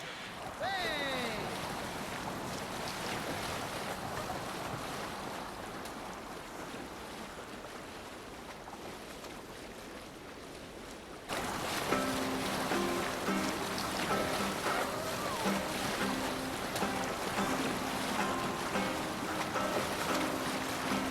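Sea waves and wind around a Viking longboat being rowed in Assassin's Creed Valhalla, a steady wash of water and air, and then the mix brightens partway through as voices and music join.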